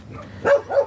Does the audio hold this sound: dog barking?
yes